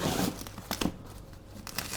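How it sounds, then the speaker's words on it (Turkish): A zipper on a Prego Armada 70x120 baby playpen crib is pulled open in a few short, scratchy bursts, close and fairly quiet. "Bunu indirmek için ürün içerisindeki fermuar özelliğinin arka tarafını açtık."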